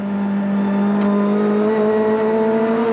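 Dick Johnson's Shell race car comes over the top of Mount Panorama at the 1991 Bathurst 1000 top-ten shootout, its engine a loud, sustained, rising roar held close throughout.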